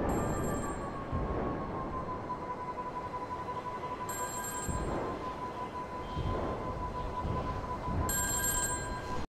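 A payphone ringing in GTA Online: an electronic telephone bell ringing in three repeated bursts over a steady tone and low background rumble, with no one speaking.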